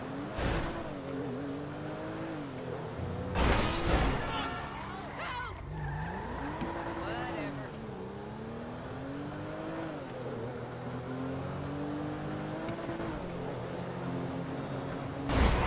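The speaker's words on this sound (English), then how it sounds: "I don't like this car!" Car in Grand Theft Auto driving hard and skidding, a steady engine drone with rising and falling revs and bursts of tire squeal, with a voice talking over it.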